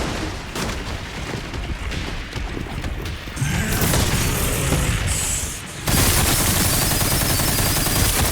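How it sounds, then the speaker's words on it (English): A machine gun fires in the Resident Evil Requiem video game, with dense rapid bursts and heavy mechanical clatter that stay loud throughout. A brief dip comes before an even louder sustained barrage, and no one talks. "Yeah, let's just go back to the machine gun."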